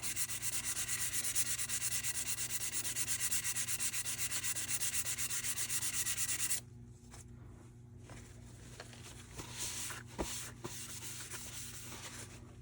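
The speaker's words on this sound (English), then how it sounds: "So again, just kind of rotating it as I sand it down" Close, rapid rubbing strokes of sandpaper work primer off a plastic 1/350 scale TOS Enterprise model kit, scratching steadily for several seconds before dropping to quieter, intermittent rubs.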